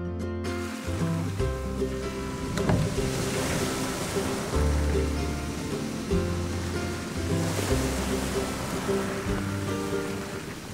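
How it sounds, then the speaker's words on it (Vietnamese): Heavy sea waves of a tsunami in an animated folk tale crash and roll continuously, a loud, dense surf roar with no voices over it. "Sóng mạnh quá, đánh mọi thứ đi hết rồi."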